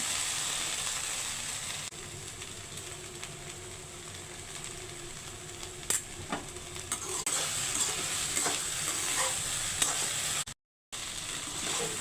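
Okra (bhindi) fries in a pan with peanuts, a continuous close sizzle with occasional stirring clinks and scrapes, briefly cutting out near the end.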